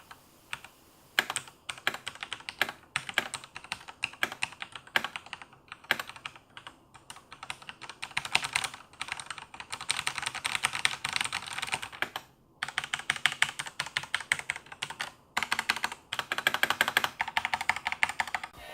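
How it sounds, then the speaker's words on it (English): Typing on a Cooler Master MasterKeys Pro M mechanical keyboard: rapid, close clacking keystrokes in uneven bursts with short pauses between runs. "And now for the typing sound test."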